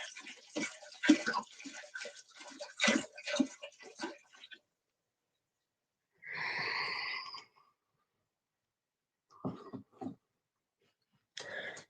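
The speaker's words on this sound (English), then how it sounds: "I'm going to pour a little bit of water into the bowl" Water poured into a crystal singing bowl, a short gurgling splash about midway, followed by a couple of brief knocks and taps, with a person talking earlier on.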